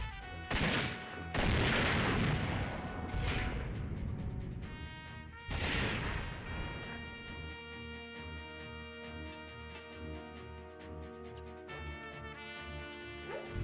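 Shotgun blasts from the Front Mission 4 video game, a few heavy booming shots with long rumbling tails followed by quieter mechanical game sounds, no talk over them.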